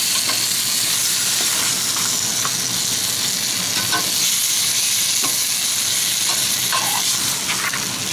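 Pork cubes with oyster sauce and peanuts are mixed in a hot pan, giving a loud, continuous close sizzle with scattered scraping and stirring clicks throughout.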